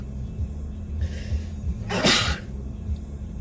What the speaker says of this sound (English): I'm getting the feeling I'm about to sneeze